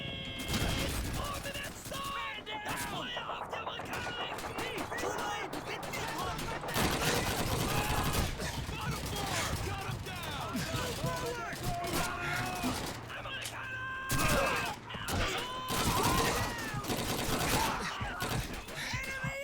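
Gunfire in Call of Duty 2 during a house-clearing fight, bursts of rapid shots and single cracks over a busy, loud battle din, with voices shouting in between.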